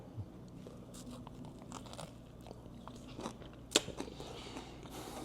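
Close, crisp bites and chewing on a sour pickle eaten with a jackfruit pulled "pork" slider, giving a few soft crunches and one sharp crack partway through, with no talking.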